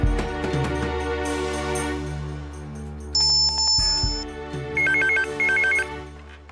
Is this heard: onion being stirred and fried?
no